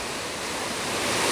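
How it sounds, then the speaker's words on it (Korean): The Mugeon-ri moss waterfall in a deep mountain valley in Samcheok, running with modest water after dry weather, gives a loud, steady rushing roar that swells slightly, and no one speaks. "여기 깊은 산속에 이거 오니까 여기 폭포에는 물이 좀 있습니다"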